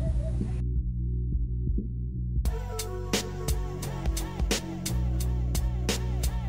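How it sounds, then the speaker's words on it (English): A stand mixer fitted with a dough hook kneads bagel dough, its motor humming steadily while the hook knocks the dough in a regular thumping rhythm after a brief quieter start. "use a dough hook, because obviously we're making dough"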